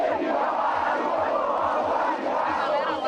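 A large crowd of Atlético Mineiro supporters in Belo Horizonte cheers and chants together, a loud, dense and continuous roar of many voices with rhythmic pulses that continues throughout.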